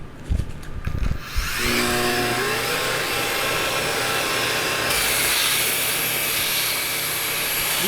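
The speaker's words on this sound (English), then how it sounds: "We busted out the big sander." A big power sander spins up after a few knocks and clatters, then runs as a steady, loud, high whining roar with broadband hiss that continues to the end.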